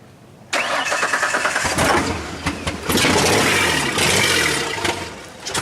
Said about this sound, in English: run it without the exhaust. It's so loud.